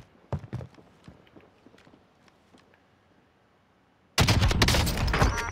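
A few distant gunshots and footstep-like thumps sound faintly in a battle-royale trios match, then a sudden loud, sustained burst of close gunfire runs to the end.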